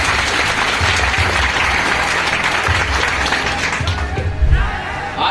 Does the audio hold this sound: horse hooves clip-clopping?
no